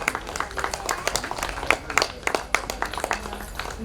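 An audience claps and cheers at a school annual day celebration, a dense, uneven burst of many hands with scattered louder claps, fairly close and sustained throughout.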